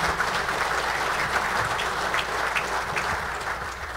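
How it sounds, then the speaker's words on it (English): Seminar audience at Oakland Hills Country Club applauding a board of directors: steady, moderately distant crowd clapping throughout, even and sustained with no break. "Round of applause, please, for these board of directors"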